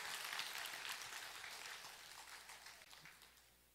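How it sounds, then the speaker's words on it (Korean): A retreat congregation gives a round of grateful applause in a hall, a steady wash of many hands clapping that slowly fades. "감사 박수."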